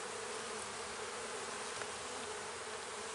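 Honeybees swarm and drone inside an opened hive during an early-season inspection, a dense, continuous buzz close up that fills the whole stretch at an even level, with no voices.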